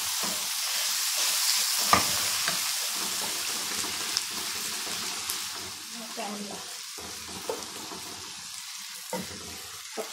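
Ground meat sizzling in a pan with onions fried until golden for lasagna, a steady close hiss with occasional stirring scrapes and clinks.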